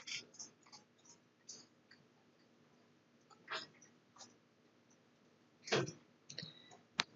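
A computer mouse clicks in a quiet room, a few sparse, soft, close clicks spaced irregularly with near silence between.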